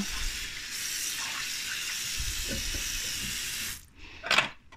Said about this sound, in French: Maintenant je mets de l'eau très froide et je vais venir le rincer à l'eau froide.